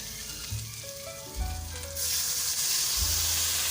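Broth is poured into a pan of fried vegetables browned to a deep red for a snakehead fish and spinach dish, and a loud sizzling hiss surges and then holds steady under soft background music.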